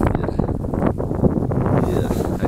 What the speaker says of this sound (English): Okay, it's windy, that's why.